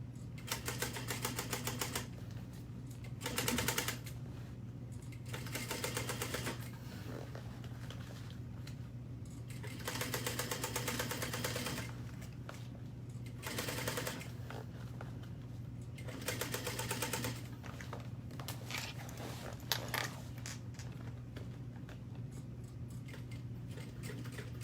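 A sewing machine slowly stitching a zipper seam in bursts of rapid, rhythmic needle clatter separated by short pauses, close and moderately quiet over a steady low hum.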